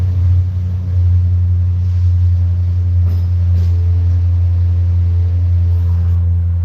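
A loud car engine idles inside a cramped garage cave that holds three cars, a heavy, steady low rumble with a strong throbbing hum and faint clatter on top.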